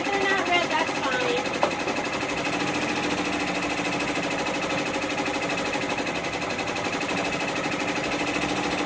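An embroidery machine sews an outline stitch with a steady, close, buzzing mechanical hum that runs unbroken throughout at even loudness.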